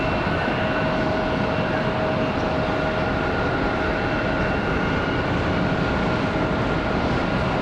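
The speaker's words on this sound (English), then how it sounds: "That was it right there, off to San Antonio. That 737 MAX 8." A Boeing 737 MAX 8 departs Charlotte Douglas for San Antonio, its engines a loud, unbroken roar with dense low rumble and steady whining tones layered above, close and sustained with no talk.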